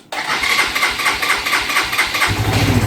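A motorcycle engine fires up at the press of the starter button after an ignition barrel refit, catching quickly and settling into a steady, loud mid-pitched idle with a rhythmic chug, close by.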